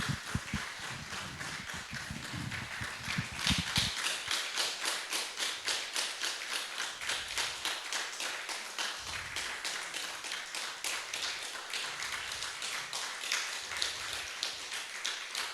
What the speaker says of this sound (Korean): 네, 큰 박수로 감사를 드리겠습니다.